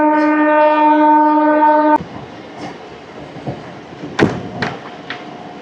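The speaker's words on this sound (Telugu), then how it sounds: "రామవరపాడు నుంచి కూడా మన ట్రైన్ అయితే స్టార్ట్ అయిపోయింది." A MEMU passenger train between Vijayawada and Machilipatnam sounds its horn in a steady multi-tone blast for about two seconds, then rolls on with rumbling wheels and a few sharp clanks and knocks.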